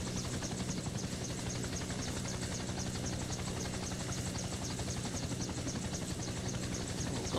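A model Airwolf helicopter hovers nearby in the evening, its rotor and motor keeping up a steady, even buzzing whine with no pauses or voices.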